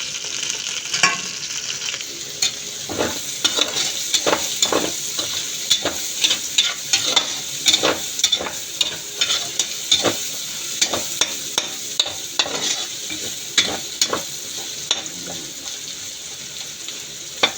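Onion and garlic sautéing in a pan for chicken mechado, a constant close sizzle under repeated rhythmic scrapes and clacks of a spatula stirring throughout, with no talking.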